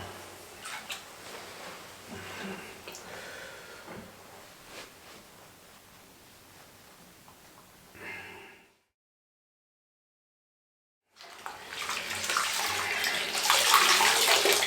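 Water runs into a bathtub for a bath, a steady splashing rush that stops briefly, then returns louder and brighter as the tub keeps filling.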